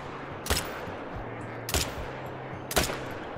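Three separate AR-223 rifle shots ring out in the hunting video game Call of the Wild, spaced roughly a second apart over a quiet outdoor ambience, each a sharp, loud crack with a short tail.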